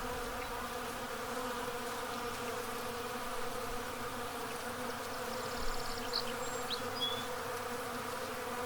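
Honey bees buzz in flight outdoors during the April 8th 2024 solar eclipse, a steady, faint droning hum with a few individual bees passing near now and then, and no voices.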